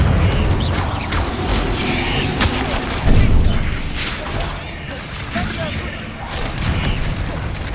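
Spell blasts from Hogwarts Legacy, such as Incendio, Bombarda and Confringo, burst one after another in quick succession, with a loud booming hit near the middle and mechanical clatter and crackle over a constant dense rumble.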